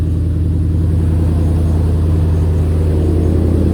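An old high-mileage truck engine idling with a loud, steady low rumble and an even throbbing pulse, close by and with no talk over it.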